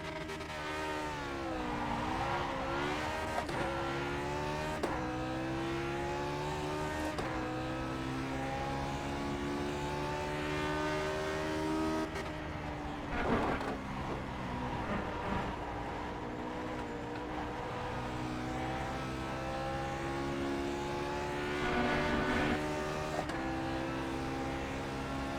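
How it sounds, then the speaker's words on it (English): Lotus 49 race car lapping Spa in a racing video game, its high-revving engine screaming loud and close, rising through gears with repeated sweeps and downshift drops, with no voices. "I'll go run a lap right now here at Spa"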